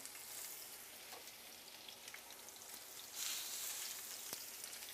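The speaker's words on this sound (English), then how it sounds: "And you want to hear that sizzle." Steady, crackling sizzle of ribeye steaks frying in a hot oiled pan, close and continuous, growing slightly louder partway through.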